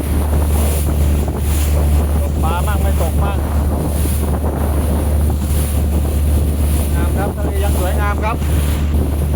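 A boat heading back across the sea off Sattahip in rough, heavy waves roars with constant engine drone, wind buffeting and splashing water, loud and unbroken, with faint voices now and then.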